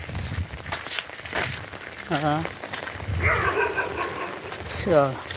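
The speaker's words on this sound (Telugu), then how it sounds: "కుక్కలు" A couple of dogs bark a few times at moderate distance, heard over people talking and some outdoor background noise.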